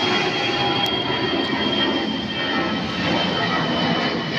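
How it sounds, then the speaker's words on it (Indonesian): Airplane departing near an outdoor fishing pond in Pasar Minggu, heard as a steady, loud broadband engine roar lasting throughout, with a faint voice briefly underneath. "Pesawat lo baru berangkat."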